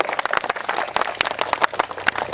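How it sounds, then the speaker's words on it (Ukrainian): Brief scattered clapping from a small crowd honouring a second-place finisher at an Olympic Day run event, uneven individual claps of moderate loudness, nearby and without talk. "Привітаємо його аплодисментами."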